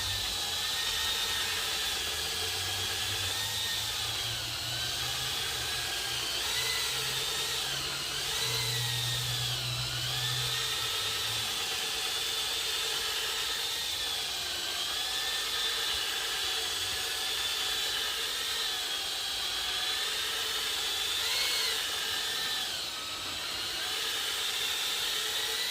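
Polisher buffing the headlight of a 2010 Chevy Aveo, a steady whining motor drone with a hiss that runs continuously, its pitch wavering slightly as the pad works the lens.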